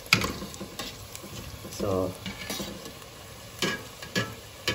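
Aloo tikki, potato patties with a coating, fry in a pan over medium heat, giving a soft sizzle with scraping and turning sounds from a utensil. A voice speaks briefly.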